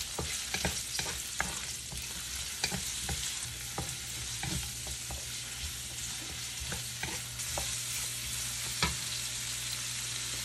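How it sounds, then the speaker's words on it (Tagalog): Onion sautés in a pan, giving a continuous loud sizzle. Repeated sharp scrapes and clicks of stirring come at an irregular rhythm, close by, with no talking. "Pagkatapos ilagay ko na ang sibuyas. Gisa-gisa lang mga kaibigan."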